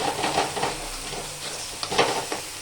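Two eggs fry in a pan beside already-fried vegetables, giving a steady hiss and sizzle broken by the scrape and clatter of stirring.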